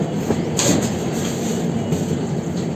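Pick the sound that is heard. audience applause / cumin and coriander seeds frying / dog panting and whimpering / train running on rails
train running on rails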